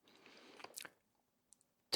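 Close, quiet whispered-ASMR chewing of crispy and chewy food bits gives soft mouthy squishes and a couple of crunchy bites. A few faint clicks follow a brief silence.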